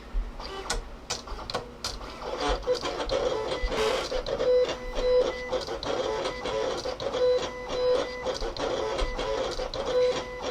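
A Silhouette Cameo 4 vinyl cutting machine whirs and clicks nearby during a test cut, its motor buzzing steadily with rapid ticking and clattering movements as the blade runs back and forth over three passes.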